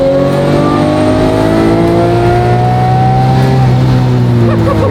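Manual Lamborghini Murcielago V12 revving hard in a tall first gear toward 5,000 rpm, a loud, steady climbing engine note with rising harmonics, close and continuous for the whole stretch.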